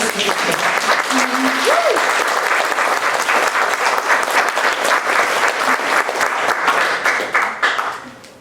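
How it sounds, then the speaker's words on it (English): Sustained, loud applause fills a room at a poetry prize announcement event, a dense crowd of clapping hands for about eight seconds before fading out, with a brief voice early on. "Honestly, she deserves a round of applause."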